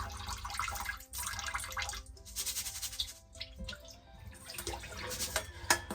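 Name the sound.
rinse water drained off rice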